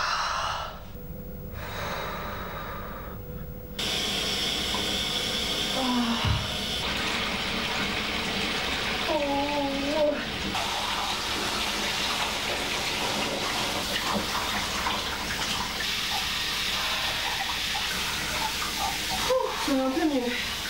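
Water runs continuously at home during washing, a broad, steady rushing that swells after a brief quieter start and carries on for about twenty seconds, with breathing, sighs and a few faint vocal sounds over it.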